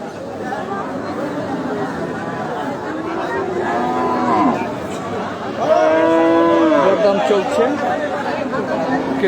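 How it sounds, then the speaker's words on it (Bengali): Many cows at a large open-air cattle market, with two drawn-out moos rising over a steady wash of crowd chatter and voices. "দেখতে পাচ্ছেন প্রচুর গরু রয়েছে আর মাঠটি অনেক বড়"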